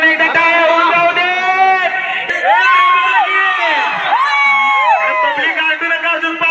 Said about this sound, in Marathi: मित्रांनो एकदा टाळ्या होऊन जाऊ दे